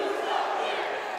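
A deafening crowd fills a wrestling arena at a Juggalo Championship Wrestling event, a dense, steady roar of massed voices and cheering with no break across the moment.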